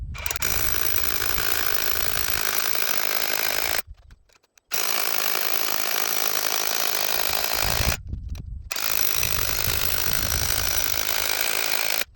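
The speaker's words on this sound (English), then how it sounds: "Now I drill them." A power drill whines loudly and continuously, stopping twice for brief pauses before grinding on again, close up with no voices.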